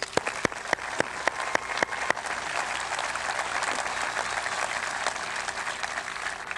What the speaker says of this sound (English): Would we please give them a round of applause?